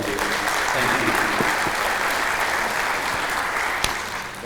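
A crowd at a Columbia County community event gives another round of applause, a thick, even roar of clapping that holds steady throughout and trails off slightly at the end.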